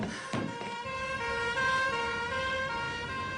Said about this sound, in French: Diane, appelle une ambulance.